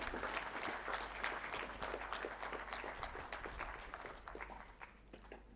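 Audience applause at a memorial lecture in Jaipur, a dense continuous patter of many hands clapping for several seconds before slowly thinning out, heard at moderate distance in a hall.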